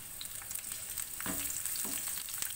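Green chillies and chopped ginger frying in warm oil in a home kitchen, a steady soft sizzle with a few brief stirring scrapes, close and without talk.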